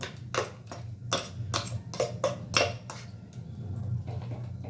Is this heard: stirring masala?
yes